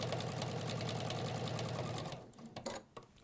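A sewing machine stitches over guide stitching and pins on a smock dress, a close, fast mechanical whirr that runs steadily for about two seconds before stopping into a few soft clicks.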